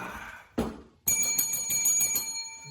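A novelty bell sound effect used as a comedic sting in a talk show: one bright, ringing bell strike that sustains with a shimmering tone after a short thump, with no talk.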